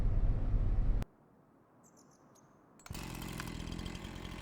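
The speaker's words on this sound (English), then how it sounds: "Okay, got our chainsaw and we've got our marked trees" A chainsaw in a farming simulator game on the Kinlaig Highland map gives a loud, steady engine buzz. It cuts out abruptly for about two seconds, leaving near silence with faint chirps, then roars back at full level.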